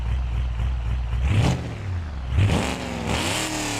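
Car engine in BeamNG racing simulation with a loud aftermarket exhaust, revving hard in two rising pulls, close and raspy, with clattering exhaust crackle between the surges and no talk.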